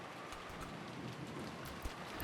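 Steady rain pours down in the Umineko video game, a dense, even hiss of drops with a few heavier splashes, quiet and continuous with no voices.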